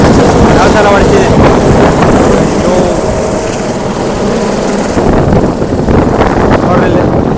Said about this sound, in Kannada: ಗಾಳಿ ನೋಡಿ ಯಾವ ಥರ ಹೊಡ್ತಿದೆ